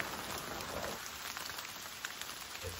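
Steady rain falls outdoors in a forest on Texada Island, British Columbia, as a dense, continuous hiss with scattered close droplet taps and no voices.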